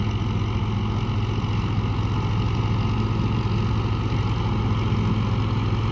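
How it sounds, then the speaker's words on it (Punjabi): A John Deere tractor with a chopper attachment runs steadily during the wheat harvest season, its low engine drone constant and close, with no voices. "ਇੱਕ ਟਰੈਕਟਰ ਹੈ ਜੀ, ਜਾਨ ਡੀਅਰ ਚਾਪਰ ਦੇ ਆਇਆ ਜੀ ਸਾਡੇ ਏਰੀਆ 'ਚ ਪਹਿਲੀ ਦਫ਼ਾ"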